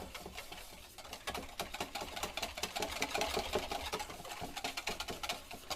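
Rapid, steady clicking and scraping of a whisk beating egg yolks in a bowl, close but quiet, with a fast even rhythm.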